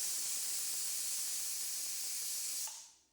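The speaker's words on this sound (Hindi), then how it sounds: "आप इसको अपने आप इसका प्रेशर निकलने दीजिएगा" A pressure cooker holding lauki with chana dal and cashews vents steam in a loud, continuous hiss that cuts off sharply near the end.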